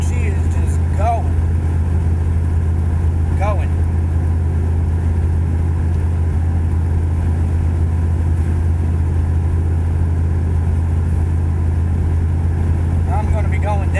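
A 2001 Dodge Ram 2500 pickup cruising on light, feathered throttle with new tires, its steady low engine and road drone loud and continuous throughout, with faint brief squeaky tones rising above it now and then.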